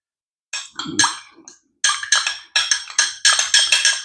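A spoon stirs salt into a small amount of water for sourdough dough, giving repeated bright clinking scrapes against the container in quick bursts, close and fairly loud, with short pauses between strokes.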